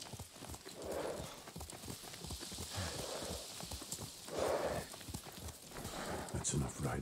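Steady clip-clop of horse hooves as riders travel on horseback in the game Ghost of Tsushima, a continuous rhythmic trot heard close, with a voice speaking over it.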